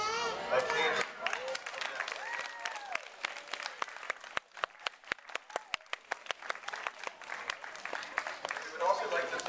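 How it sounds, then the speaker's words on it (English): Applause from a school assembly audience, a mix of scattered claps and crowd noise with sharp individual hand claps standing out, accompanied by children's voices and chatter throughout. "give yourselves a big round of applause"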